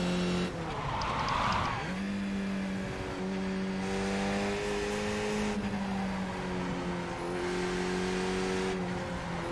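Race car lapping Lime Rock in the iRacing simulator: a steady, loud engine drone with gear changes and shifting revs throughout, tires briefly squealing early on, no talk.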